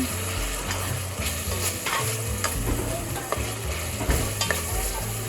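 Smoked paprika being stirred into a frying pan on a home stove, with steady oil sizzle and repeated scraping strokes of the spoon, close and fairly loud, with no talk.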